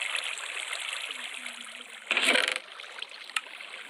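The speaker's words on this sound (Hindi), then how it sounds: "अब यहाँ पर हमें पानी भरना पड़ेगा।" Water being poured into place to fill a fishing farm built in Minecraft Pocket Edition, a steady trickling stream flowing throughout with a brief louder splash in the middle.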